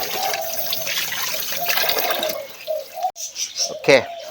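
Tap water runs steadily while red tilapia is washed in a kitchen for steaming, then breaks into a few short splashes and trickles, with a voice talking over it.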